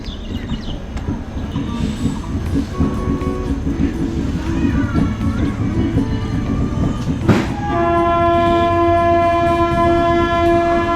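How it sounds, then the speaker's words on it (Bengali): A train horn sounds loud and sustained near the end, over the steady rumble and rattle of a moving train bound for Siliguri. "এখন ট্রেন হর্ন মারছে"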